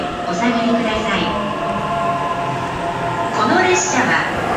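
A JR 209 series 1000 group charter train runs through Kashiwa station on the Joban Line, a steady, close, loud rumble with whining motor tones that swell again near the end, over indistinct platform voices.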